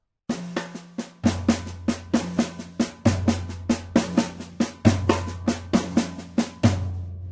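A steady samba batucada drum set groove with sharp, evenly spaced snare hits over a deep repeating bass drum, played alone at a lively pace.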